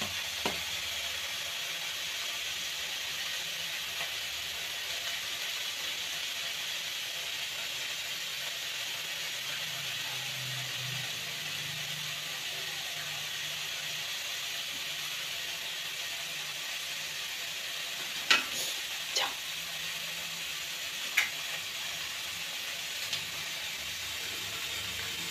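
Steady frying sizzle from an egg in a pan, a continuous close hiss running alone throughout, with a few brief clicks and taps near the end.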